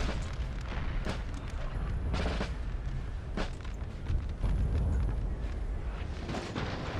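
Napoleonic artillery barrage in Napoleon Total War: dense, continuous low booms and cannon blasts rolling one over another at a distance, with sharper reports rising out of the din.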